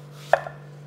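A small knife cuts through food in a single quick chop, a short sharp tap followed by a faint second click over a low steady hum.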